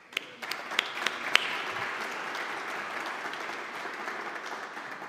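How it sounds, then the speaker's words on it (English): An audience applauds at an energy partnership conference, a steady wash of many hands clapping at moderate volume, with a few sharper claps standing out early on. "I would like to applaud you, German Galushenko"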